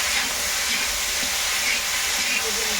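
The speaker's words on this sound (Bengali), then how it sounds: "এখন আমি এটাকে একটু ভাজাভাজি করে নেবো ভালো করে।" Food frying in a pan at home, a dense, loud, steady hiss of sizzling oil throughout with faint stirring under it.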